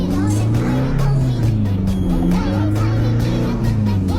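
A racing exhaust muffler roars as the engine revs, giving a loud, steady, low droning rumble with rising and falling pitch throughout, heard up close.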